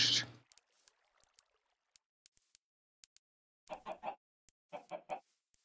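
Minecraft chickens cluck in short bursts, one loud sound at the start, then scattered quiet clicks and two clusters of clucks near the end, with no talk.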